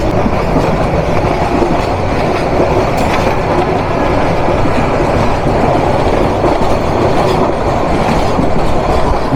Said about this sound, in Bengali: এই ট্রেন মোটামুটি বেশ ভালো স্পিডে থাকে